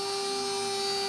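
A MillRight Carve King CNC machine cutting wood, giving a continuous steady high whine with a constant pitched hum, loud and close, with no voices.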